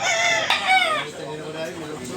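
A rooster crows loudly and close at a chicken market, one drawn-out crow fading after about a second, followed by softer clucking.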